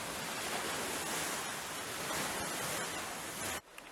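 A stormy sea with wind seen from a second-floor hotel room with a sea view: a continuous roaring wash of surf and wind, fairly loud, that cuts off abruptly near the end.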